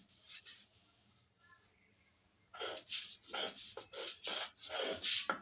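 Leaves for a hair treatment are ground by hand into a fine paste, giving quiet rhythmic rubbing and scraping strokes that start faint and grow steadier and louder in the second half.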